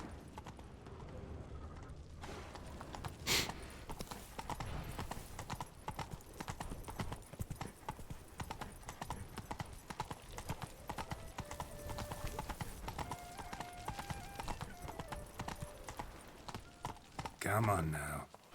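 Horse hooves clip-clopping in the video game The Witcher 3, a steady, close rhythm of hoofbeats with creaks and a whinny, under intermittent talk.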